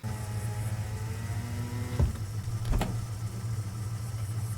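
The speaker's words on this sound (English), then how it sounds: "We just get a car rolling on up for one final friendly face." A car rolling up in a movie scene, a steady engine idle hum with a couple of brief mechanical thumps and whirs, moderately close, no speech.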